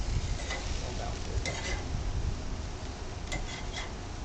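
Venison burger patties sizzling on a grill, a steady close hiss with soft crackles and a few faint clicks, no talking.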